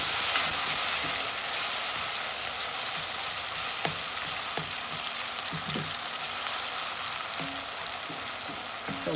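Onion, tomato and thyme fry in a pan with a steady, loud sizzle and hiss, occasional soft clicks and stirring sounds coming through, with no talking.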